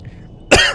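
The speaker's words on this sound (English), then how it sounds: "Me fucking dying after coughing on my fucking own saliva." After a quiet stretch, one short, loud, harsh cough bursts close to the mic from a person choking on their own saliva, followed by a brief trailing catch.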